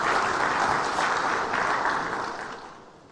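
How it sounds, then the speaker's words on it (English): Audience at a live public enterprises league table event clapping together, a thick close wash of applause that holds steady and then tapers off toward the end. "Need a bigger clap."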